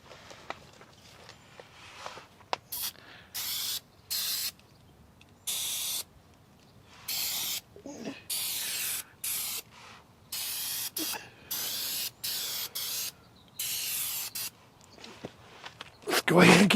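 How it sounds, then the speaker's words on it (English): Spray glue is applied to an RV camper underbelly liner in about a dozen loud, hissing aerosol bursts, each a second or so long, separated by short pauses with light handling noises. "Spray glue here."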